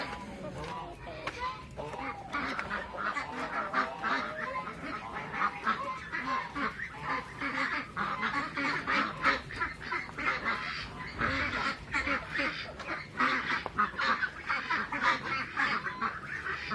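Young ducks quacking continuously in a busy flock, overlapping honks and squawks close by with no break.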